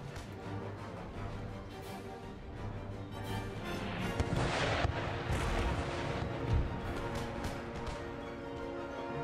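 Mortar artillery in an Empire: Total War battle, a dense ongoing rumble of distant booms and crackling fire with heavier thuds near the middle, steady and loud throughout with no clear pauses.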